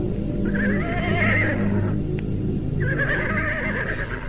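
A horse neighs loudly and close, a shrill whinny followed after a short pause by a second, with low rumbling and clopping underneath.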